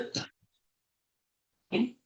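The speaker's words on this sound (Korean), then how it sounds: "아직도 조금 제가 기침이 뒤가 좀 남아 있어서" A man with a lingering cough gives two short, sharp coughs separated by a long silence, close to the listener, during a church sermon.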